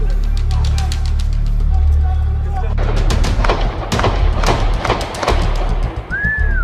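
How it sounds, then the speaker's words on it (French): Sharp bangs from an automatic weapon in a film scene set during the Charlie Hebdo attack, firing in a loose rapid series over shouting and a low rumble, with voices talking throughout. "C'est une arme automatique."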